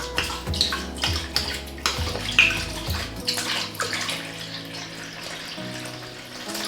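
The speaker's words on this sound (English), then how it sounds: "we're going to add 900 grams of water." Room-temperature water, 900 grams for sourdough bread, streams steadily into a mixing bowl with a rushing, splashing pour, close by and fairly loud, a low hum underneath that cuts out partway through.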